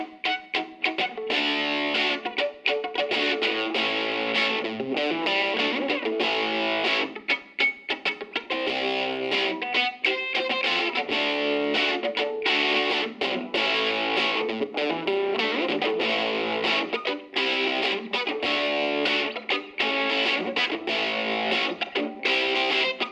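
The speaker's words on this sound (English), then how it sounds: "If you want distortion out of an amp like this size with 10 watts or 12 watts, it's just going to be loud." An electric guitar plays chords through a Silvertone 1472 amplifier of 10 to 12 watts with heavy distortion, producing a loud, dense, continuous fuzzy tone with rhythmic strummed attacks and brief gaps.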